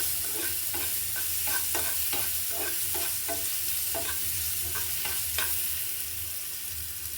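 Sliced ripe plantain (ethapazham) sautés in a pan, giving a continuous close sizzle broken by a regular rhythm of spatula strokes scraping and tossing the pieces, with no talking.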